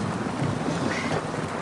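Steady rain hisses with a low thunder rumble, a dense, even wash of noise filling the brief stretch with no speech over it, used as a storm effect in an English listening exercise.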